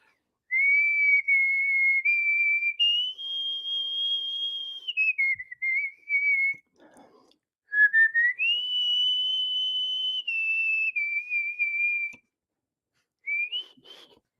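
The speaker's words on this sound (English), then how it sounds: "typically you'll whistle that song that you were singing. Whistle the Spanish song." A person whistles a Spanish song alone, a clear sustained melody of long held notes with a few short pauses, close and steady in a quiet room.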